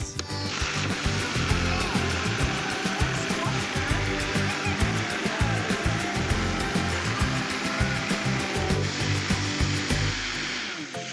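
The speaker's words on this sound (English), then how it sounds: "I'm gonna blend this until it's blended through." A blender runs continuously, loud and close, blending homemade Italian pasta sauce seasoned with salt; its whirring motor churns with a rough, pulsing texture for about ten seconds before cutting off.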